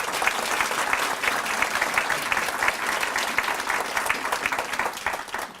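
Steady, full applause from an awards-ceremony audience at a public library literacy event, many hands clapping in a dense sustained patter that tapers at the end, with no talk over it.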